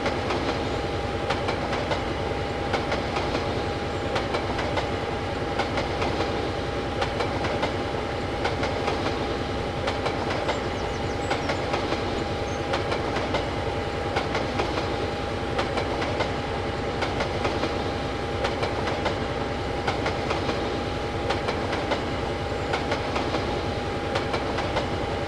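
A freight train locomotive runs in Train Simulator, giving a steady, continuous rumble with a rhythmic clickety-clack of wagons on the rails throughout. It sounds close and constant, with no speech.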